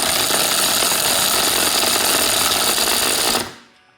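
A drill spins a DeWalt drill bit into material with a loud, continuous grinding roar at close range, holding steady for several seconds before cutting off and fading quickly.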